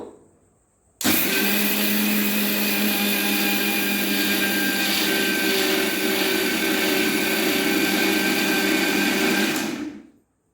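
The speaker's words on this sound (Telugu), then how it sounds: "ఇంక మిక్సీ అయితే పడదాము." Mixer grinder churning soaked rice with water for dosa batter, starting abruptly after a brief quiet moment and then running as a loud, steady whirring drone for about nine seconds before cutting off.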